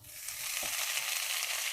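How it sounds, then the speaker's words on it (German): Rösti frying in a hot pan, giving a steady, dense sizzle and spatter that holds evenly throughout with no voices. "sobald es wieder spratzt und blubbert"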